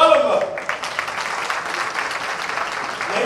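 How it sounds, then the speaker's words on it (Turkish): An audience applauds at a family iftar dinner: steady, moderately loud clapping that follows a voice at the start and runs on without a break. "Ben sol tarafı bir alkış alalım mı?"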